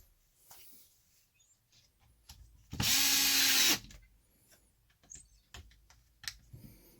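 A power drill driving a screw into a Traxxas Wide Maxx RC car part, one loud whirring burst of about a second, set among faint clicks and handling noises.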